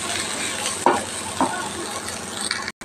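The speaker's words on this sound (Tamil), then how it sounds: "பிறகு இடித்து வச்ச முடக்கத்தான் இலையும் மிளகு சீரகம் பூண்டு இதெல்லாம் சேர்த்திட்டேங்க. நல்லா கொஞ்சம் வதக்கணும்." Crushed mudakathan leaves with pepper, cumin and garlic sauté in a hot pan, a close steady sizzle with two spoon knocks against the pan and stirring scrapes, cutting off abruptly at the end.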